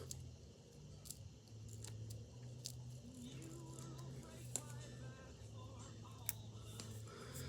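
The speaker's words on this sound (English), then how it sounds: "I am going to run my scissors up just past the edge of the clip" A few quiet scissor snips cutting thread, spaced apart over a soft, low background hum.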